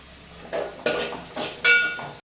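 Mutton curry is stirred in a pan over tempering, giving a few short scraping and clinking strokes of a spoon against metal, close and distinct, ending abruptly.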